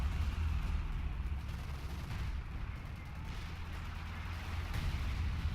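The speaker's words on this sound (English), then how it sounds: "Light artillery barrage at your command." Light artillery barrage in a World War II strategy game battle for Caen, heard as a dense, continuous low rumble of distant shell fire and explosions rolling on without pause.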